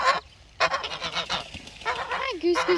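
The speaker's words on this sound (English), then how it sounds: "Hi, Goose, Goose, Goose!" Farm geese honk repeatedly, near and fairly loud, in uneven bursts with short pauses between calls.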